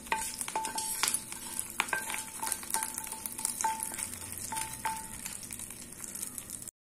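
A mustard-seed tempering in hot oil poured into chutney, a light crackling sizzle with repeated clinks of a spoon stirring, close and quiet, ending abruptly in silence.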